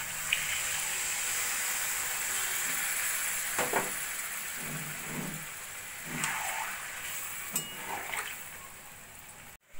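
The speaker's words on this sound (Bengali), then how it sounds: "এবার মিক্সির বাটিটা ধুয়ে দিয়ে দেবো অল্প করে জল।" Water rinsed from a grinder jar goes into a hot pan of new-potato curry (alur dum), giving a steady hissing sizzle with a few sharp clinks and scrapes, close and alone.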